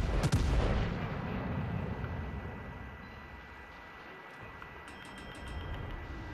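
Heavy warship guns fire in the World of Warships: Legends video game, a deep booming salvo at the start followed by rumbling decay and distant ambient game noise, with faint later thuds.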